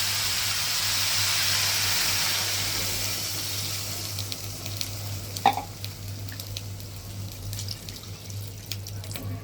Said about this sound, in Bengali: এই তো এখন আমি পানি দিয়ে দেব